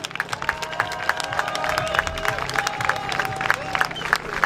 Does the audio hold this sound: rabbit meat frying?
no